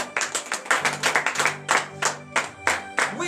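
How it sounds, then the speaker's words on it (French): A church congregation claps and cheers in acclaim during a morning prayer service, with bursts of clapping in uneven rhythm and several loud peaks over a steady sustained tone. "Veuillez vous lever sur vos pieds et donner de vives acclamations à notre Seigneur Jésus."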